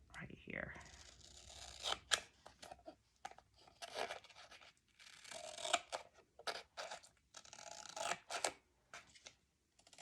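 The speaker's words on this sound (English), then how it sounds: "I'm just going to take some scissors and cut right here." Scissors cut through floral scrapbook album material, a series of close, crisp snips and crunchy slicing strokes in irregular bursts, mixed with rustling, with a person talking quietly in between.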